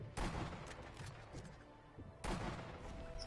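Sniper rifle shots from the video game Sniper Elite V2 ring out, two sharp cracks with echoing tails a couple of seconds apart amid quieter scattered game sounds.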